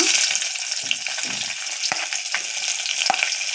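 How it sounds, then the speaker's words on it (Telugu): Chopped onion frying in hot oil with mustard seeds and cumin in a pan for upma, giving a steady close crackling sizzle with a few sharp pops and light stirring scrapes, no voices. "ఆనియన్ వేస్తున్నా."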